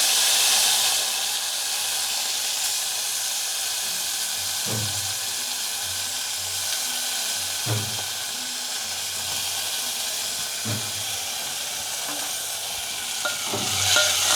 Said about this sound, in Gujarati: તો આપણે તેલ ગરમ થઈ ગયું છે, તો એમાં આપણે આ મેથી નાખી દેવાની છે